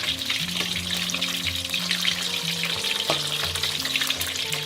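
Fish fries in a pan of oil, giving a continuous loud, dense sizzle with bubbling crackle and a few clicks from turning the pieces, with no talking.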